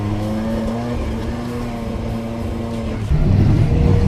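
Steve Exista's Holden Gemini race car at the Muscle Car Masters, its engine droning steadily and loud with clear harmonic tones, then swelling rougher and heavier near the end as revs build.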